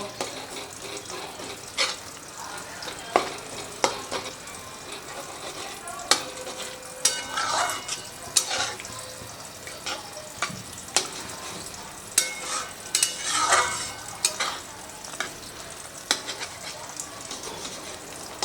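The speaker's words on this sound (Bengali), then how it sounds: "দিয়ে এটাকে হালকা করে মিশিয়ে দেব" Anda ghotala egg mixture being stirred and chopped in a hot frying pan, a near, steady sizzle punctuated by frequent spatula clicks and scrapes against the pan, with no voices.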